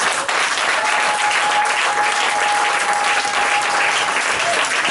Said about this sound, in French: Donnons encore une acclamation